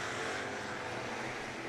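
Stock race cars roaring around a short oval speedway, running three wide into turns three and four, a dense continuous engine drone that stays loud and steady throughout.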